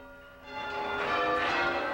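English change ringing on church bells builds from a soft start into a dense, swelling wash of overlapping tolls that continues without voices.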